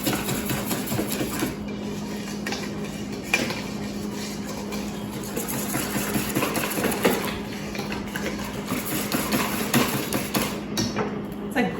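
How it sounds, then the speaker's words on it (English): A hand whisk is worked through a bowl of whole wheat bread batter, making a continuous rapid clatter and scrape that keeps going for about twelve seconds. "I'm just gonna keep on whisking and adding and whisking until I can't whisk it anymore."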